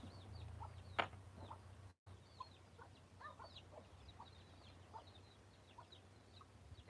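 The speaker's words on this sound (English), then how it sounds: "Can you guys hear the chicks in the background?" Soft clucking from chickens in the distance, with scattered short calls and a few higher chirps from chicks over a steady low hum in a workshop.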